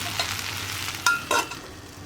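A covered pan of banana and long-bean thoran on medium flame is stirred, giving a few scraping clatters over a soft steady sizzle, with no voices.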